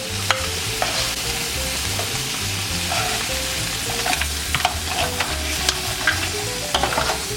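Shrimp sears in a hot pan with a steady, loud sizzle and crackle, broken by occasional scrapes and clinks of a utensil stirring, with no voices.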